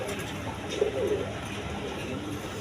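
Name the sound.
pigeons cooing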